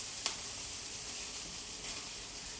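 Spam and onions sizzling in a pan: a continuous, bright, close hiss with a single sharp pop near the start and a faint crackle later, no voices.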